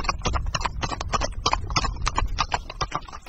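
Rapid, steady clip-clop of horse hooves on a hard surface, close and continuous throughout with a brisk trotting rhythm.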